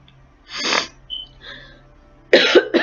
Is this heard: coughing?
yes